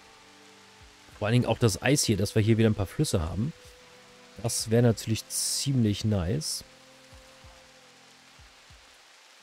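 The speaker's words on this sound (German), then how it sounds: "So, jetzt regnet es hier." Steady soft rain patters in the RimWorld colony, a faint continuous hiss beneath someone speaking German for most of the stretch.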